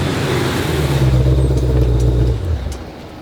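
A 2020 Shelby GT500 engine roars loudly from nearby with a sustained, strong growl that climbs slightly, then drops away sharply as the revs fall, leaving a quieter idle.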